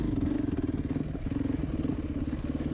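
Dirt bike engine, a Yamaha YZ450 or Sherco enduro motorcycle, running close by with a rough, pulsing single-cylinder chatter that dips briefly and picks back up over a few seconds, with no talking.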